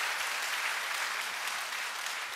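A church congregation gives a steady, dense round of applause for the vehicle volunteers, loud and continuous throughout with no talking over it.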